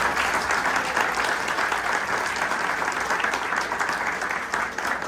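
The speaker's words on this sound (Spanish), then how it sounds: "Y un fuerte aplauso para la batalla que nadie quería pelear." An audience at a book presentation claps steadily and loudly throughout, with dense, continuous applause and no break.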